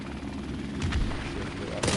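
An enemy helicopter in a video game, a steady low rotor thrum droning throughout with a couple of sharp bursts of gunfire-like impacts over it.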